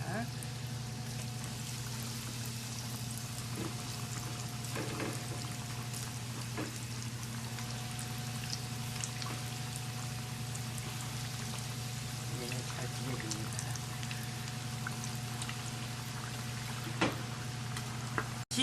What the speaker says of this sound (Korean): 그럼 튀겨줍니다.